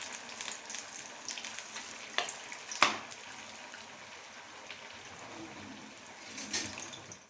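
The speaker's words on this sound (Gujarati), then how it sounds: "હવે આપણું આ તેલ થઈ ગયું છે, હવે આપણે વડા એમાં નાખી દઈએ, જેટલા સમાય એટલા।" Poha vadas dropped into hot oil to deep-fry, a soft continuous sizzle with a few sharper crackles and clinks of a utensil, fairly faint and close.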